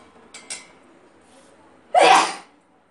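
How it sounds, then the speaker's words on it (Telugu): Someone in a kitchen cooking sambar gives a couple of faint breathy catches and then one loud, sharp sneeze close by, followed by quiet. "ఆ గాలి చూడండి, తుమ్ములు ఎట్లా వస్తున్నాయి."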